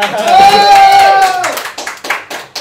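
Studio audience at a late-night comedy talk show bursts into loud, close clapping after a high whooping cheer, the claps growing scattered as the applause trails off.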